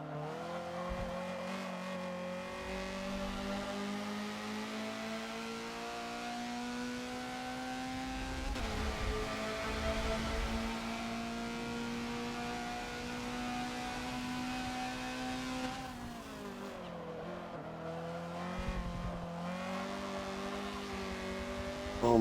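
In Forza, a Honda CRX accelerates around the Long Beach street circuit, its engine droning steadily and climbing in pitch through the gears, with short dips at each shift and a brief drop in revs near a corner.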